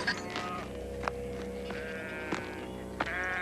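Sheep bleat in a field, a few wavering calls over a steady background of soft music and ambience, moderately near.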